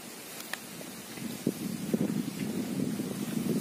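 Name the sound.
wind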